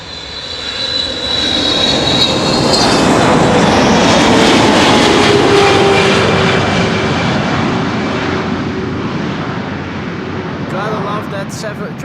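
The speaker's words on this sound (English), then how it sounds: "That 777-300 whir, which you will also hear when a freighter passes by." A Boeing 777-300 jet passes at Amsterdam Schiphol Airport, its engine whir and roar swelling loud and then slowly fading over about twelve seconds.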